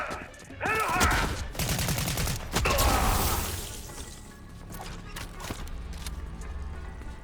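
Rapid bursts of gunfire from the Fortnite video game crackle and clatter over several seconds, dense at first and then thinning out, with players talking over the action.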